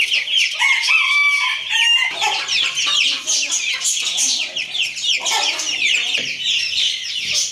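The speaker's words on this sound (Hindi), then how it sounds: "ये पैटिंग हाउस की मुर्गी इधर आके शोर मचा रही है सुपर केज में" A loud, busy flock of hens in a large cage clucking and squawking continuously, with a rooster-like crow early on and no talking.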